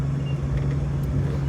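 1988 Jeep Wrangler Sahara climbing a steep hill in four-wheel drive, a steady close engine drone with a strong low hum, brief and without talk.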